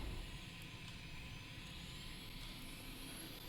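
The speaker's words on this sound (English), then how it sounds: "We have our flaps at 20 degrees and we apply full throttle" Aircraft engine held at full throttle for takeoff in Microsoft Flight Simulator, a steady, continuous low roar and hum with no change in pitch, heard alone.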